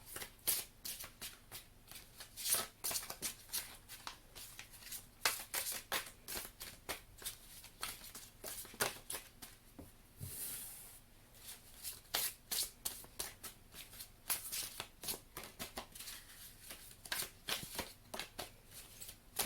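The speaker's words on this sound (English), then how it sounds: "I'm just going to do a hand shuffle until at least 6 cards fall out" Tarot cards are hand shuffled in quick irregular bursts of soft papery flicks and riffles, close and quiet, going on without pause.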